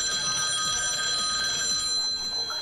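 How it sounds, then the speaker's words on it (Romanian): A mobile phone rings inside a cramped phone booth, a steady electronic tone with layered pitches sounding loud and continuous throughout, with faint background noise beneath it. "vezi că sună celularul"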